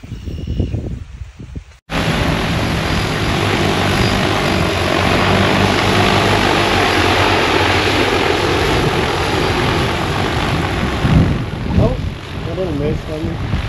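A crop duster airplane spraying fungicide over a Texas test plot roars up to takeoff power after a brief pause, its propeller and engine drone loud and sustained, with a short stretch of talk at the start.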